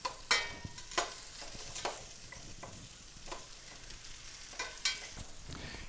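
Chicken pieces and vegetables sizzle softly as they brown in a stockpot, with repeated utensil scrapes and stirring clatters every second or so.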